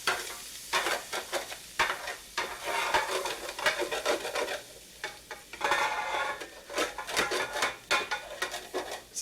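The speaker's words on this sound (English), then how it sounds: "Just scrape off all that good hamburger at the bottom." A utensil scrapes browned hamburger and rice off the bottom of a pan with a splash of water added. Repeated rough scraping strokes come in uneven bursts over a light sizzle.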